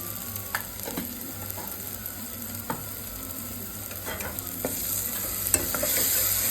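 Masala sizzles gently in oil in a pan while a spoon scrapes and stirs at irregular intervals, close and fairly quiet.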